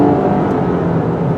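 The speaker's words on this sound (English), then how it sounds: "This V6 is a nice engine" The V6 engine of a 2016 Jeep Cherokee Trailhawk 4x4 drones loudly and steadily under acceleration, a close, even mix of engine hum and road noise with no speech.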